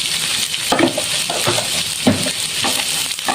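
Chopped onions with salt sizzle steadily in a hot pan, a continuous frying hiss broken by a few stirring scrapes, close and fairly loud, with no talking.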